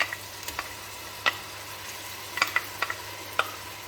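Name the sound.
onions with coriander and garlic frying in a pan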